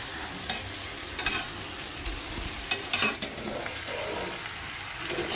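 Chicken pieces and potatoes being stir-fried with spices in a pan for a Bengali chicken and potato curry, a steady close sizzle broken by scraping stirs and occasional clinks, with no voices.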